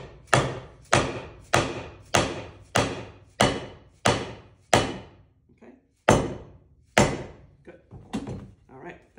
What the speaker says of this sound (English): I'm just gonna try and knock this straight in.